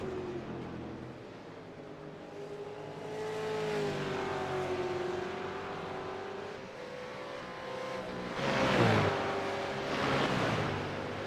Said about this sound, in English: Grant Bristow and Thomas McCall going side by side doing the S's